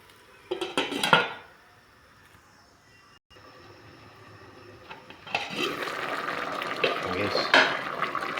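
A metal lid clatters onto a cooking pot of crab in coconut milk with vegetables: a short burst of loud clanks near the start, then the covered pot bubbling and hissing steadily, close by.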